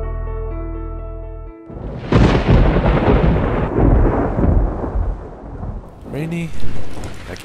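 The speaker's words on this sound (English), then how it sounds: "Rainy again." Rain falls steadily as a loud, deep thunder rumble rolls in and sustains, with a voice briefly heard near the end; a sustained tone precedes the storm at the start.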